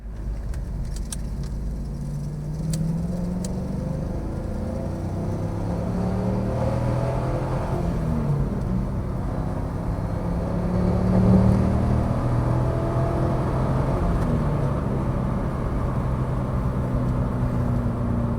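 A 2002 Chevrolet Camaro SS 35th Anniversary edition with an LS1 V8, six-speed manual and factory Hurst shifter is heard from inside while driving, with a steady engine drone whose pitch rises and falls through gear changes and a few faint rattles.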